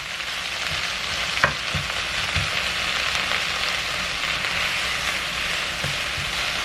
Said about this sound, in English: Start to cook the greens.